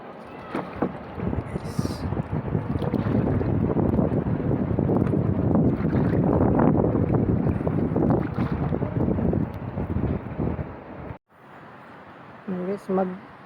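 Steady wind and engine roar of a small motorboat moving over water in Camarines Norte, Philippines, loud and continuous, with a brief quieter stretch near the end.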